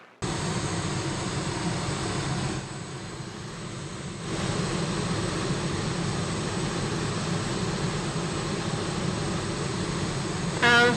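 A rocket plane engine roars loud and steady in a war film scene about the Nazi Komet, a continuous close drone that dips briefly then swells again, with no voices.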